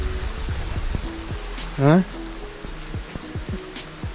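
Steady flowing water of the Srednyaya Khortytsia river in a ravine, a constant rushing hiss throughout, while someone speaks briefly and distant chirps break through.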